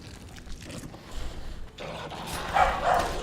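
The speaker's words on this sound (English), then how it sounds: "Sorry for the barking dogs." Dogs bark in The Witcher 2: Assassins of Kings, faint at first and then louder and closer in a few sharp yelps toward the end, over a low ambient rumble.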